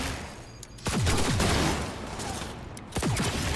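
Gunfire in the video game Cyberpunk 2077, a rapid fusillade of shots in bursts over a constant background roar, moderately loud and without voices.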